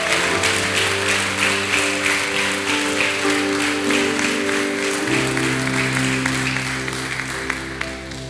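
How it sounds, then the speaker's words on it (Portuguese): A church congregation claps steadily throughout, with sustained organ or keyboard chords playing underneath and the clapping fading slightly near the end. "Você pode aplaudir Jesus."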